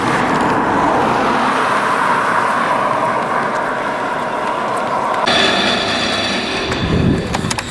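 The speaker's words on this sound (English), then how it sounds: "and yes, another car." A car passes on a narrow country road, a loud close roar of engine and tyres that swells and then cuts away abruptly into rustling wind noise, with no one talking.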